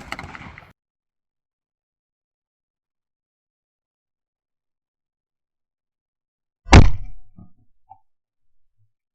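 A shotgun fires a single sharp, loud shot at a clay target, with a brief decay afterwards following several seconds of silence, and a short murmur of voice at the start.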